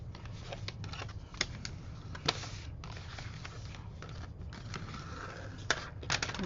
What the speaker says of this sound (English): So then I just lightly go over it, with my bone folder.